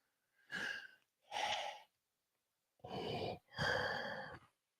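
A person imitating Darth Vader's heavy mechanical breathing with the voice, four slow, loud rasping breaths in two pairs, inhale and exhale, separated by a brief silence.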